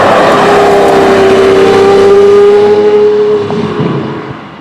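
A Lamborghini Murcielago LP640 accelerates hard from highway speed, its engine rising in a loud, close, sustained wail before the sound tapers off.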